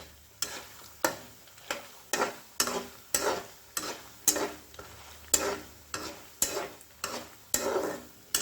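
Sun-dried vadiyalu fritters being stirred into a brinjal curry in a pan, regular rhythmic scraping strokes about twice a second over a soft sizzle, close and clear with no talking.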